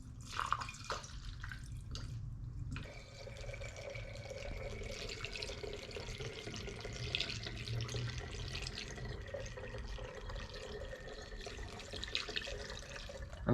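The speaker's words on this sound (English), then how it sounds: "what I'm gonna do is fill up this Sure Shot sprayer with a funnel" Homemade WD-40 style liquid is poured through a funnel into a Sure Shot sprayer, giving a continuous trickling and gurgling flow, close and steady, with a brief interruption near the start.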